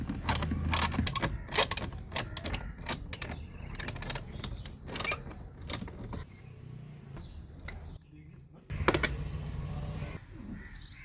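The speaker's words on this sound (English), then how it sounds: "use a 10mm socket wrench to remove each bolt one by one" A 10mm socket wrench ratchets bolts off a Kia Sportage during air intake door actuator replacement: rapid clicking ratchet bursts, close and loud, in repeated runs with short pauses.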